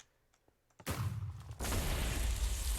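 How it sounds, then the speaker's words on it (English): A standard tank shell explosion in Minecraft hits after a short quiet lead-in, a loud broadband blast followed by a second, longer rumbling burst that carries to the end. "Very standard explosion."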